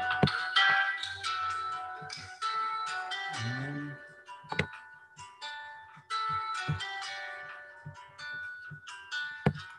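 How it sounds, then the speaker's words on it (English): A phone rings with a bright, repeating electronic melody in an English class setting, with short pauses between phrases, fairly close, and other room sounds mixed in. "I'll answer this phone only."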